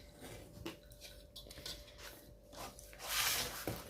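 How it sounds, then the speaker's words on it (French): Scissors snip and rasp through paper during a home craft project making a memory index box, a few close, crisp cuts with light rustling, ending in a brighter burst of cutting. "je vais marquer comme un pli et je vais couper au ciseau"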